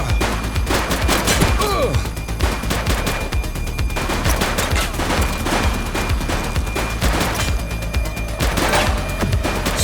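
Sustained gunfire in a police shootout in The Precinct video game, with rapid overlapping bursts and single shots, loud and continuous throughout, with faint game voices under the shots.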